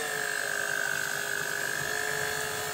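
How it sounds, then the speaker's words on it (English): An electric Mixmaster mixer breaks down ham in pea and ham soup. Its motor gives a steady, high whining drone that holds at the same pitch throughout, with no talking. "use the mix master just to break down that ham a little bit more"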